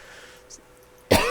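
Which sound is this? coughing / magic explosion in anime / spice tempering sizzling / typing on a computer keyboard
coughing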